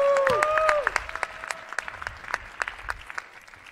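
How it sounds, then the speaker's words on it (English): Applause for the presenters at a developer showcase finale: a voice speaks briefly at the start, then scattered claps from a modest crowd continue and thin out. "Ladies and gentlemen, another big round of applause for all the presenters"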